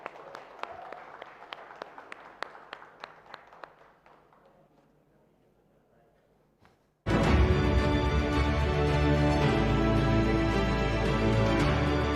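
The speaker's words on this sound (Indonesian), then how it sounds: "Tepuk tangan buat kita semua." Scattered clapping from an audience at the Tana Toraja 2020 regional election public debate thins out and fades over several seconds, then a loud burst of music abruptly takes over.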